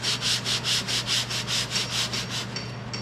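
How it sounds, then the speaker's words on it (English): Body filler on a second-gen Camaro door is sanded by hand with steady back-and-forth strokes, about a dozen rhythmic rasping passes close up before the strokes trail off. "I just take my time, focus on the area, and sand it"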